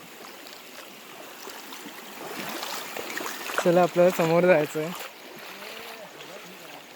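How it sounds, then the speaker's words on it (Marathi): Water from a flowing forest river runs over a flooded bridge near Mandwa, a soft steady trickle and rush heard at close range beneath a person speaking midway, with faint splashing from wading. "सो मी नदीला क्रॉस केला आणि समोर आलो आहे"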